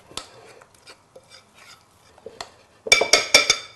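Caesar salad dressing is mixed in a bowl: quiet, scattered clinks and scrapes, then a burst of louder, rapid strokes near the end.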